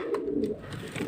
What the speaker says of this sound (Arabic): ده حمام بلدي